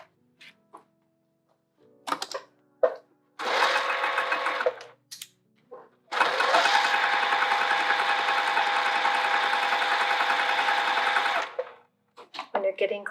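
Sewing machine stitching across a bucket tote, heard first in two short bursts and then in one long steady run of several seconds, loud and close, with brief handling noises between the runs.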